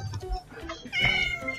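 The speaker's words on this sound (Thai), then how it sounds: "นี่เป็นแมวแล้วนะฮะนี่เป็นแมว" A cat meows in the Minecraft video game, with a couple of short, bright in-game mews sounding close by over someone talking.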